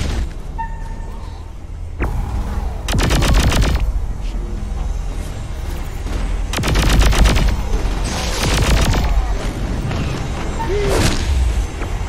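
Rapid gunfire bursts from the player's small gun in Saints Row IV, several loud broadband volleys and sustained fusillades repeating across the stretch amid game noise and booms.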